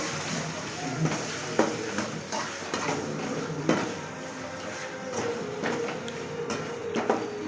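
Food being stirred in a cooking pan, with scraping strokes and clinks of a utensil against the pan in an irregular rhythm, close and moderately loud, with no talking.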